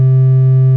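Sustained sine wave synth tone from the Serum plugin, a steady loud pure hum with faint upper harmonics, held evenly and alone for under a second.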